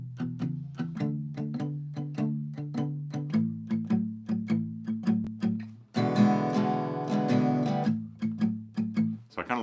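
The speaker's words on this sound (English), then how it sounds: "You can also palm mute the whole, all 11 bars, and then open it up for that 12th bar where that E comes in." Electric guitar plays a blues shuffle in E, palm-muted and choppy through eleven bars with a steady rhythmic chug, then opens up into ringing, sustained chords for the twelfth bar before returning to the muted pattern.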